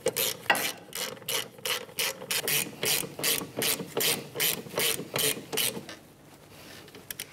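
A ratchet with a 14 mm socket clicks in quick bursts while tightening rear brake bolts on a 2007-2013 Mitsubishi Outlander, a close rhythmic series of sharp pawl clicks with brief pauses, then trailing off.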